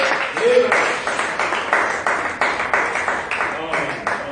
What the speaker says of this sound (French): donnons une acclamation à notre Dieu